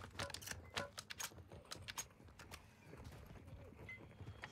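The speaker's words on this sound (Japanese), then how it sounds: "わ、足音すげえなってんな。" Loud, rapid footsteps in Call of Duty DMZ, a fast run of sharp clattering steps that is close and prominent at first and then eases into quieter, scattered steps over game ambience, with no voices.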